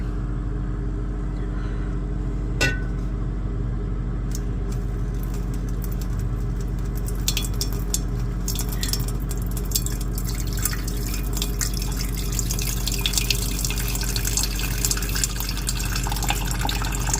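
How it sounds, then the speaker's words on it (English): Dissolved gold solution is poured off from a batch being refined, a steady stream of liquid with scattered drips and splashes over a constant low hum, running for the full stretch without talk. "let's go ahead and start pouring this gold off"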